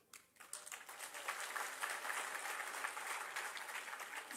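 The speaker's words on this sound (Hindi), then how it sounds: "तालियां भी बजाई आपने" An audience at a lecture hall speech breaks into applause, a dense patter of many hands that swells quickly after a brief quiet start and holds steady, moderately distant.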